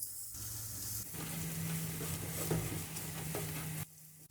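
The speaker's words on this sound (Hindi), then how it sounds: "अब हम मसाले को 1 से 2 मिनट अच्छे तरीके से भून लेंगे" Spice masala with Kashmiri red chilli roasting in a pan for Punjabi rajma, a close continuous sizzle and hiss with occasional stirring scrapes, a low hum underneath, starting and stopping abruptly, no voices.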